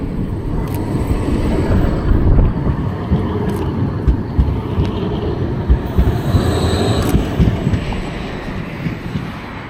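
A city tram passes along a street, producing a loud low rumbling roar with occasional metallic squeals and clanks, swelling as it goes by amid general street noise.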